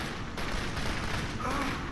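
Dense, continuous gunfire crackles in a rapid, overlapping barrage, loud and close throughout, from the video game Kane & Lynch: Dead Men.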